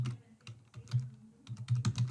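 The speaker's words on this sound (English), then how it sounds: "So I'm typing here from Twitter." Keys clatter on a computer keyboard in uneven bursts of quick taps, with a short pause in the middle, close and moderately quiet.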